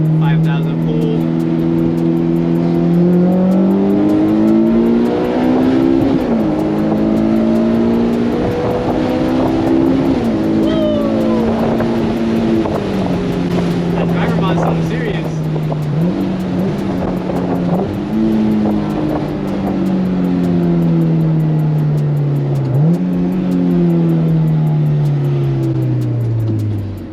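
Honda S2000 fitted with a new HKS exhaust running a dyno pull, a loud steady engine drone with harmonics rising and dipping in waves across the run, continuous throughout with faint background noise.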